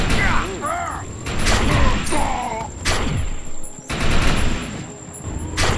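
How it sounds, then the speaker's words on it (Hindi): Sniper rifle shots in the video game Defiance, sharp cracks standing out from dense in-game gunfire and mechanical clatter, with people talking over the action. "सिर्फ एक शॉट मारा मैंने।"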